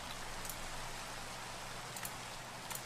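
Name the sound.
rain in the video game Minecraft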